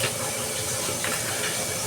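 Steady, dense sizzling hiss of fish frying in hot oil, continuous and close, with no talking.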